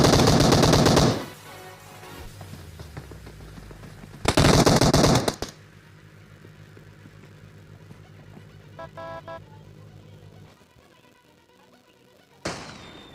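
Bot gunfire in PUBG, the online battle-royale shooter: two loud, sustained automatic bursts of about a second each, separated by quieter in-game ambience and distant pops, then a sharp shot near the end.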